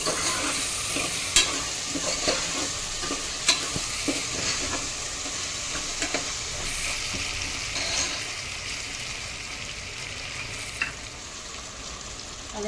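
Peanuts drop into hot oil tempering for Gujarati vagharela rice and are stirred steadily, with a constant sizzle and frying crackle under recurring scrapes and clinks of the spoon against the pan.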